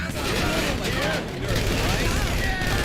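Gunfire in GTA crackles in rapid, dense bursts over a continuous game background, with a person talking over it.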